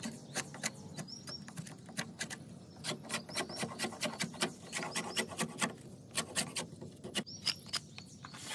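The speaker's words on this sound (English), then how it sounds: "Let's cut off all this punky wood." Cutting punky, degraded Chinese privet wood with a blade gives sharp, irregular scraping and rasping strokes, close and crisp, with faint birdsong chirping in the background.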